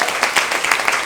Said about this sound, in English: And another big applause for the lady in the background over there, Antara